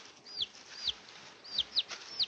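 A chicken gives a string of short, sharp clucks, about six spaced apart over a couple of seconds, fairly close and alone against faint background noise.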